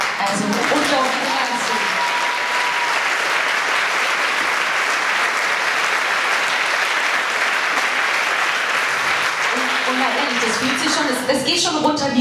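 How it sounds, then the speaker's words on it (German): Audience applause at a benefit concert in Grafenrheinfeld, loud sustained clapping from a large crowd filling the hall, with voices talking over it at the start and as it fades. "Das fühlt sich schon toll an, wenn man so einen Applaus bekommt."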